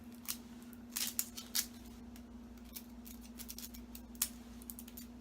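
Papery outer layers being peeled off an onion by hand make close, dry crackling tears in short bursts over a low steady hum, with no talking.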